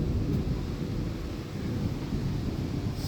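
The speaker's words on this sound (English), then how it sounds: "That's Big Thunder." Loud thunder in Oklahoma, a deep, continuous rumbling roll that fills the whole few seconds with no voices over it.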